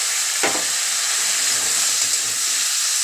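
Ground spices fry in oil for a Bengali shol fish and potato curry, a steady bright sizzle and hiss running throughout after a brief louder burst near the start, with no talking.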